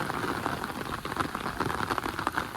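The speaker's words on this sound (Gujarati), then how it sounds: "વરસાદ આવવા મળ્યો છે જોરદાર" Heavy rain pours steadily in a Gujarati village on election day, a dense, continuous hiss of drops drumming on surfaces close by, with no voices over it.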